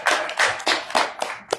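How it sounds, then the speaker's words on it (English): A few people clap at a town hall meeting in Idaho's Legislative District 21, loose bursts of handclaps, close and sparse rather than a full round. "Round of applause."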